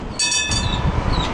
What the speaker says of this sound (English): So that tram just went past.